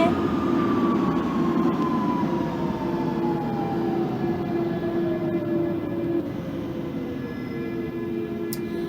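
A Central Line underground train in a simulator game hums steadily with a continuous motor drone and a slowly falling whine, loud and unbroken throughout.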